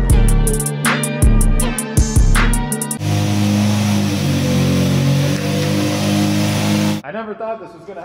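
A car engine revs hard in bursts before a drift jump, loud and close, then settles into a sustained roar for several seconds before cutting off, with voices talking over parts of it.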